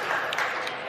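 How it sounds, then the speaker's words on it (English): A crowd at a live show claps in a brief, dense burst of applause, fairly close and steady for about a second. "It's good applause"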